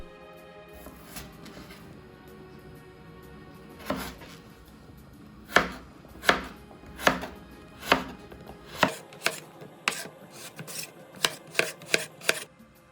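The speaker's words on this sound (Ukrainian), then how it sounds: "Для початку нарізаємо кубиком картоплю." A knife dicing potatoes into cubes on a cutting board, sparse at first, then steady firm cuts speeding up toward the end, close and clear with no talking.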